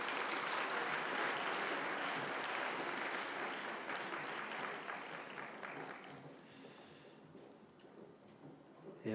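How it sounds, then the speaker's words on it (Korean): A church winter camp audience claps loudly in a hall, a dense crowd applause that slowly thins out and fades to scattered claps over several seconds. "다시 한번 여러분 큰 박수 부탁드릴게요."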